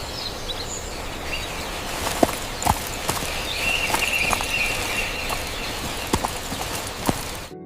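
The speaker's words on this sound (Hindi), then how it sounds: "अकेले ही अपने घोड़े पर सवार होकर घने" Horse hooves clip-clop in a steady, moderately loud rhythm as a sound effect in a narrated Hindi devotional story about a king riding alone into dense forest, with faint background ambience and no talk.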